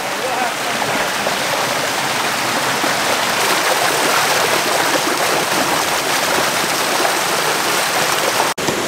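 Water pours steadily over a small dam at an off-grid cabin, a loud, constant rushing wash with no break except a brief dropout near the end.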